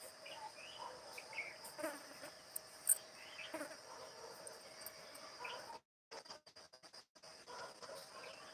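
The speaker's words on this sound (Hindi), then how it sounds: "बाहर मक्खी भी इतना परेशान कर दी है।" Houseflies buzzing outdoors in a village, a thin steady drone blended with insect chirring, fairly faint and continuous, with a brief near-silent break toward the end.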